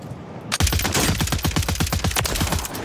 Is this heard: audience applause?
no